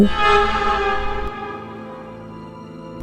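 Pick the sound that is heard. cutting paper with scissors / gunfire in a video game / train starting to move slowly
train starting to move slowly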